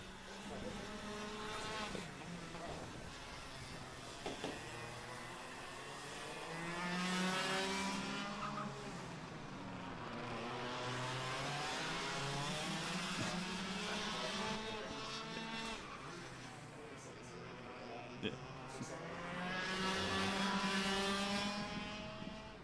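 Racing karts roar through the final corner during qualifying at a KartStars championship round in Manawatu, engine notes rising and falling as several machines pass, with a commentator's voice talking over the track noise.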